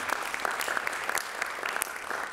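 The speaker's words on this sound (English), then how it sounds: "Can I have another big round of applause for Jim and Neil, my band?" A small audience applauds the band at a third-year jazz recital, with scattered, fairly sparse claps and some louder individual hand claps standing out over a soft crowd bed.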